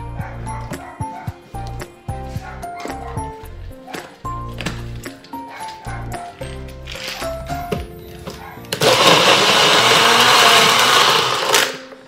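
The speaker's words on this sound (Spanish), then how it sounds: "Pongo la jugo de nectar en la licuadora y la mezcla." A blender whirs loudly in a steady, harsh burst for a few seconds, mixing nectar juice, following a stretch of clattering and tapping sounds.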